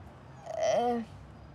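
A dog gives one short, close whimpering yelp with a rising then falling pitch, lasting under a second in an otherwise quiet room.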